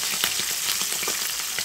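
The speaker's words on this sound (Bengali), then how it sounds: "আমি ছোট ঝাটকা ইলিশ, এটা আমি তেলের উপর ভেজে নিচ্ছি।" Small jatka hilsa fish fry in hot oil, a dense, continuous close sizzle with crackling pops throughout, loud and alone without voices.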